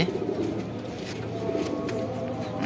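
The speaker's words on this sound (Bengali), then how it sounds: "এই যে সব নর কবুতর এখানে যা আছে দেখছেন" Several male Shahjahanpuri pigeons in a loft coo in soft, overlapping rolling calls, continuous and close for the whole stretch.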